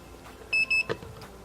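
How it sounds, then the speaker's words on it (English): Two short electronic beeps in quick succession from a Meepo NLS electric skateboard powering on, clear and close, followed by a faint click against a quiet background. "Little light as well as 2 short beeps to let you know it's on."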